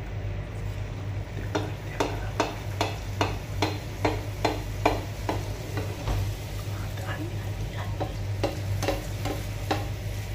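Bhatura dough frying in very hot oil for chole bhature, a steady close sizzle with regular ticking spatters and stirring knocks, under a constant low hum.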